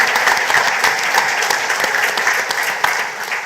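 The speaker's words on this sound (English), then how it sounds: "So just give yourselves a round of applause again for being here and supporting this." Conference audience at a cultural and creative industries event in Grenada applauds, a dense, steady wash of many hands clapping in a hall, sustained and fairly loud with no talk over it.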